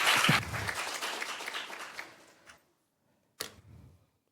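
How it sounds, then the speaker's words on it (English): Audience applause for a conference panel and moderator at a community forum on small businesses, a dense burst of clapping that fades over about two seconds, followed by a brief later flurry. "One more round of applause, please,"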